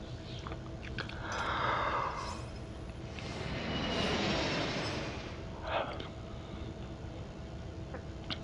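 A jet takes off in the racing video game NFS No Limits, a broad whooshing roar that swells twice and fades, moderately loud over an ongoing engine bed.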